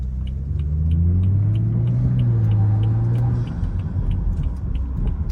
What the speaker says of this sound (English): go under the tunnel again because I like how it sounds under there